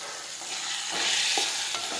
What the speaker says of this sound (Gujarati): હવે સાતળી લઈશું.